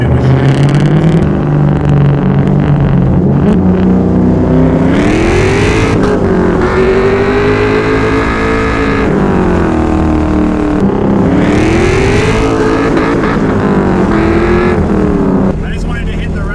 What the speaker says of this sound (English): I just wanted to hit the rev limiter and see what it was like